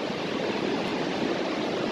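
A waterfall in Australia gives a steady, dense roar of rushing water, constant and full throughout with no talk over it.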